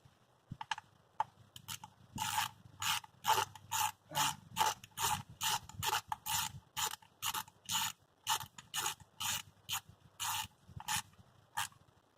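A ratchet clicks as it tightens 10mm bolts into an aluminum part during a Miata J32 engine swap, a close run of quick, regular clicking bursts with brief pauses between strokes.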